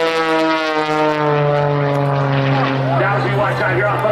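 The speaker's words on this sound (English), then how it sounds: "Skip is going to attempt to fly Prometheus between the runway and the bottom ribbon of the aircraft" A propeller stunt plane roars steadily overhead at an air show, its loud droning engine tone holding strong throughout and swelling slightly near the end, with no pause in the sound.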